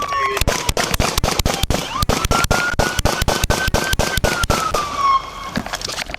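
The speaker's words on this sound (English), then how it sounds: "Shots fired!" Rapid gunfire during a police chase, a dense volley of sharp, loud cracks in quick irregular succession over several seconds, with a siren-like tone wavering behind.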